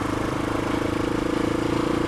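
A motorcycle on a relaxed evening ride, its engine droning steadily and loudly with a pulsing rhythm and heavy wind rush throughout.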